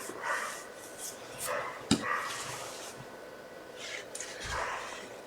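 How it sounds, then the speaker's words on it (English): A dog barks and yips intermittently from a short distance, with a few sharper bursts and snorts mixed with quieter whimpers in a room. "I don't know whether my dog's going crazy"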